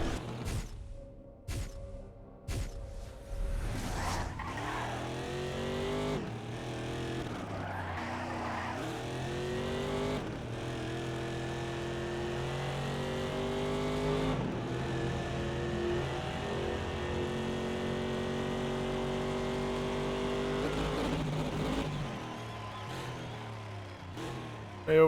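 In the Race Driver: Grid video game, a race car engine revs hard through its gears and drops pitch with each downshift, with tyre squeal and bursts of acceleration rising and falling, loud and close.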